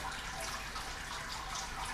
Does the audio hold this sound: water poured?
yes